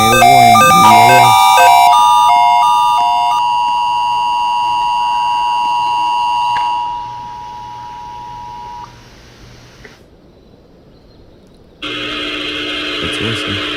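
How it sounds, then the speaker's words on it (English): EAS tornado warning alert tones from a National Weather Service broadcast for Durham County: loud steady dual attention tones blare for about seven seconds, fade into a single lingering tone, then a short gap before a burst of broadcast noise. "Tornado warning. EAS."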